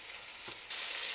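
A sauce of rice wine and bean sauce is stirred in a pan, giving a short, soft sizzle and scrape that rises into a brighter, steadier hiss near the end.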